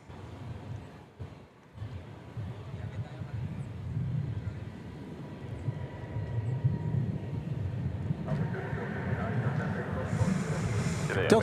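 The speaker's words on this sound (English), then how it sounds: "Delta Flight 2971 arriving from Minneapolis, St. Paul, an Airbus A319" A Delta Airbus A319 arriving at DFW airport from Minneapolis–St. Paul, a low rumbling jet roar with airy hiss that builds gradually from faint to moderately loud.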